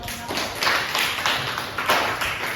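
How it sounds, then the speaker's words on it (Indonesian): Classroom applause from a small group of pupils, a few seconds of scattered close hand claps with uneven rhythm. "beri tepukan dulu"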